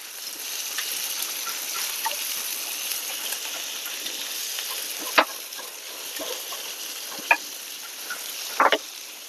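Surmai kingfish fries on a tawa with a steady soft sizzle, broken by a few sharp spatters and clicks near the end.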